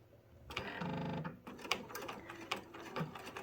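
A sewing machine runs a straight stitch to sew a patch onto a jacket. Its rapid mechanical whir comes in short bursts between clicks and handling noises, close but fairly quiet.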